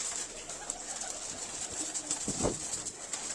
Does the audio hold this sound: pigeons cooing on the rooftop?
yes